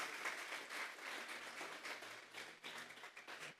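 A church congregation at a Sunday Spanish-language service claps together, giving a dense, fairly quiet round of applause that runs throughout with uneven swells and small gaps.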